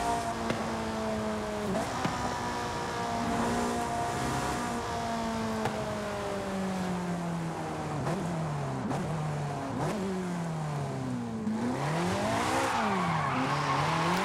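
A Ferrari F430 Scuderia driving in the video game Forza Horizon 5, its engine revving up and down through gear shifts with tire squeal from skidding, loud and continuous, with no talk.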